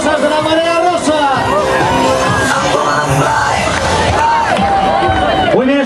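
Spectators at the Valencia women's race cheer, yell and whoop as a dense, continuous crowd roar, loud and close throughout, with shouting voices rising above the babble.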